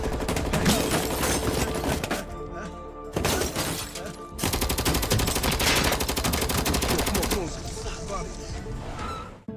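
Dramatized gunfire from a shooting scene in a hip hop TV show: dense bursts of loud rapid shots and crashing impacts, broken by brief pauses, with voices and scored sound mixed in.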